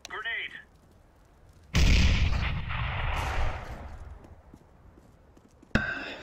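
In a first-person shooter, a loud grenade blast bursts out and rumbles away over a few seconds, followed by a sharp gunshot crack at the end, with a voice calling out briefly at the start.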